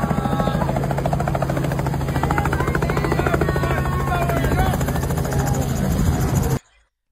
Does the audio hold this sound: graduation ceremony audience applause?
no